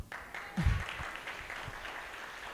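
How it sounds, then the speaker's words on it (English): Audience clapping at a demo day event, a short burst of applause that swells quickly and fades into scattered claps within a couple of seconds. "Can I get a clap?"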